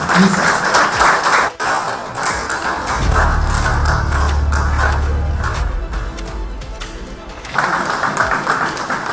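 An audience at a film trailer launch event applauds as the director is welcomed on stage, a dense patter of clapping that swells at the start and end, partly under a low hum and amplified voices.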